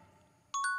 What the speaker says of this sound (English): should we ring the bell?